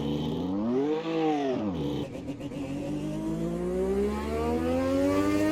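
A turbocharged 1300-horsepower F1 car in a racing game accelerates out of the pits at modern Monza: a loud, close engine whine rising and dipping through a gearshift, then climbing steadily in pitch as it builds speed, with no talking.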